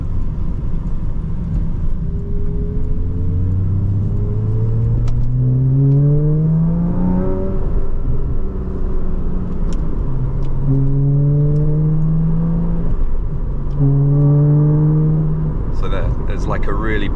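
A car engine rises in pitch as it accelerates through several gear changes, with a booming resonance droning at around 3,000 RPM under steady road rumble.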